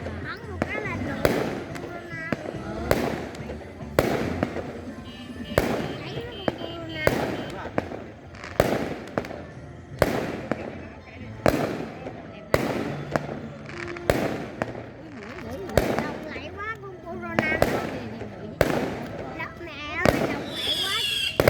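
Fireworks crack and pop on Lunar New Year's Eve in a countryside village, a steady series of sharp, loud bursts about once a second, some followed by crackling, with people talking in between.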